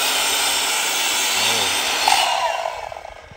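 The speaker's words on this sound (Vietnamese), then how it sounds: "mình phải tự cưa luôn nha, để làm cho cái phòng nó vừa vặn" A steady, harsh power-saw whine runs throughout, close and loud, cutting wood flooring boards indoors, easing off and fading toward the end as the cut finishes.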